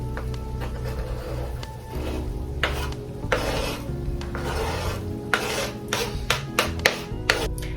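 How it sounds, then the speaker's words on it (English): Chopped vegetables go into a pan of browned meat, giving a steady sizzle under scraping and stirring from a utensil, with several sharp clacks against the pan toward the end. "I'm gonna just go ahead and add what I chopped up into the pan"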